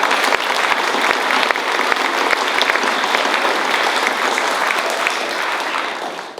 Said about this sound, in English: let's go ahead and give them another round of